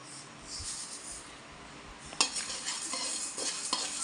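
Mustard seeds and rice dry-frying over low heat for sambar powder, a faint crackle at first, then louder stirring scrapes and metal clinks against the pan.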